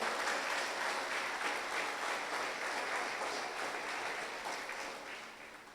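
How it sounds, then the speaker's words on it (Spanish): Sustained applause from a church congregation fills the space evenly, a dense wash of many hands clapping that holds steady and slowly eases off near the end, with no talk over it. "Dale un aplauso fuerte a Dios en este día"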